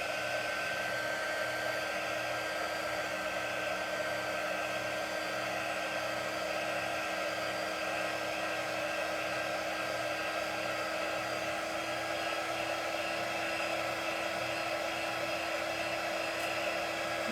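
Hair dryer or heat tool blowing steadily while drying a chalk transfer on lemons, a constant whirring motor drone with a faint pulsing low hum, unchanging throughout and close by, no talking.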